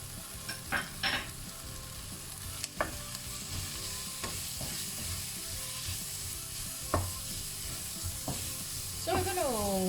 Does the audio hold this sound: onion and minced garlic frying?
yes